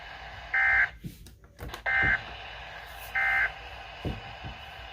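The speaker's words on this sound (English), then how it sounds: "Ce message est destiné à tester les fonctions d'activation d'alarme des récepteurs Radio Météo." Weather Radio Canada alert tone during a monthly test: three short, loud, steady buzzing beeps at even intervals, with faint clicks and background noise between them.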